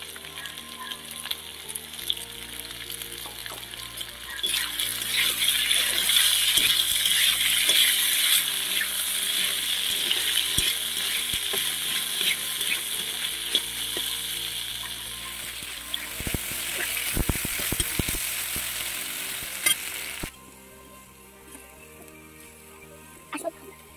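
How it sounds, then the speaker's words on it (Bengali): Potatoes frying in oil in a wok for a village-style small fish curry, a steady sizzle with occasional scraping stir strokes over a low background hum, fading quieter near the end. "অল্প ভাজা হয়ে গেছে দেখুন আলুগুলো"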